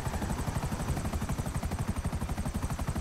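Helicopter in the video game GTA 5, its rotor beating in a steady fast rhythm that stays loud and close throughout, with no talk over it.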